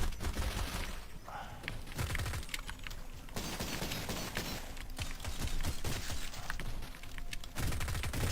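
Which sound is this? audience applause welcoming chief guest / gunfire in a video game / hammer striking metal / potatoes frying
gunfire in a video game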